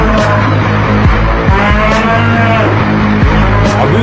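A cartoon buffalo bellows loudly in long, deep, groaning calls, thickly layered with music and sound effects that keep the whole stretch dense and loud.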